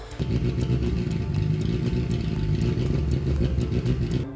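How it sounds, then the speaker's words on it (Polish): An engine test-running on CaFuel, an alternative fuel, chugs with a rough, clattering, busy rumble that stays steady and fairly close for a few seconds, no voices heard. "udało się uruchomić silnik, pracuje"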